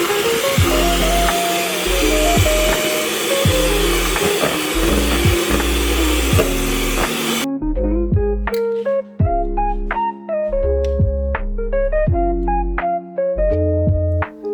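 An electric mixer whisks cold cream for a no-bake Biscoff cheesecake, giving a loud, steady whirring drone over background music for about half the time before cutting out and leaving the music alone.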